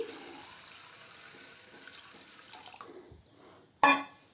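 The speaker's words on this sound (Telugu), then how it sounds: "ఇందులోనే మనం శుభ్రంగా వాటర్ పోసి" Water pours steadily into a bowl of soaked lentils, a soft continuous rush that fades after about three seconds, followed by a short, sharper splash near the end.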